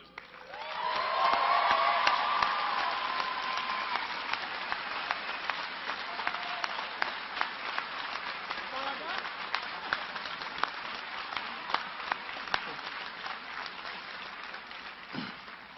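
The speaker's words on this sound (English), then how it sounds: "clap your hands, and just thank the people who have powered you to be here today" A graduation audience at a spring engineering commencement applauds, swelling into dense, sustained clapping from a large crowd that carries on steadily for over ten seconds, with scattered individual claps standing out and faint voices mixed in.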